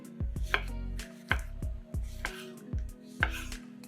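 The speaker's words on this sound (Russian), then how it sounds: "3-4 помидора разрезаем на четвертинки." A knife cuts tomatoes into quarters, striking the cutting board in separate close, crisp thuds with short pauses between them while light music plays underneath.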